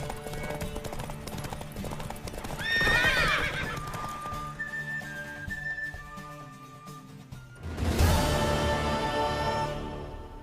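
Horse hooves clip-clop steadily in The Witcher 3, joined by a loud whinny and later another neigh, with game music and effects in the background.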